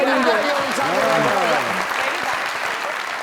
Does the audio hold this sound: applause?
yes